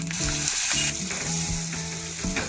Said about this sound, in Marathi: चांगलं फ्राय करून घेऊया